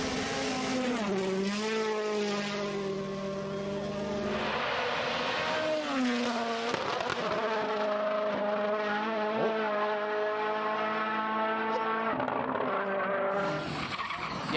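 A turbocharged rally car races flat out, its engine revving loudly with sweeping rises and falls in pitch as tyres skid and squeal, close and continuous throughout.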